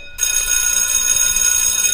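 A telephone rings with a bright, continuous electronic tone that starts abruptly and holds steady, fairly loud and close, with no talking.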